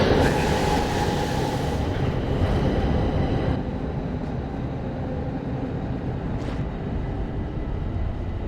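A subway train rides through the tunnels in the video game The Darkness, a loud continuous rumbling roar with rattling undertones that eases slightly partway through and then carries on steadily.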